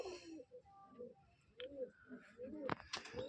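Rajshahi Giribaj pigeons coo in low, throaty bursts over about three seconds, faint and close, with soft wheezy breaths and a few sharp clicks or flutters near the end.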